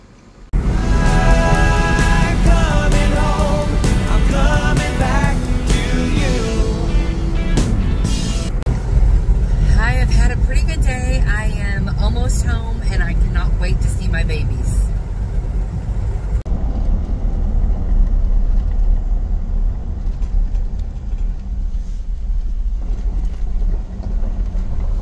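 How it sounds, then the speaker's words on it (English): Car interior on a roughly 30-minute drive home, a loud steady road rumble and engine drone throughout, with some brief higher tonal sounds early on and no talking. "So now I'm making a 30 or so minute drive home"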